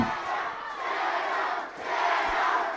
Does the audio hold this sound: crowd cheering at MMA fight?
yes